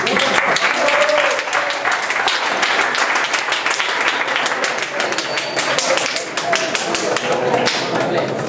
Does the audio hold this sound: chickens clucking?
no